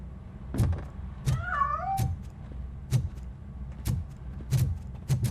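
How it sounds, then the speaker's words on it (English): A cat in the RoboCop: Rogue City game meows once with a wavering, rising-and-falling call, while repeated dull thumps and knocks sound at a steady rhythm throughout the scene. "That cat must be hiding inside."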